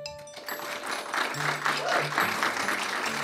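A conference audience at a live security talk in Boca Raton claps in a vote by applause, a broad wash of clapping that swells and holds steady at moderate loudness, with faint murmuring underneath.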